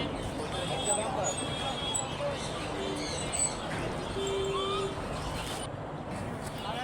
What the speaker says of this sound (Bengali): যেখানে মুরগি, কবুতর